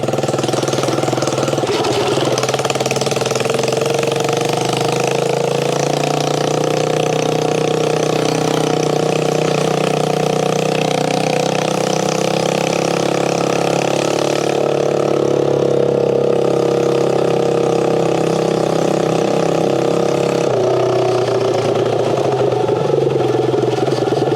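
A 1969 Honda CD90Z restomod motorcycle with a Lifan 140cc engine rides slowly along a reserve trail, its engine chugging and droning loud and close throughout with small shifts in pitch and no talk.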